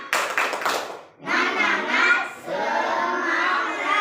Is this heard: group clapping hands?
yes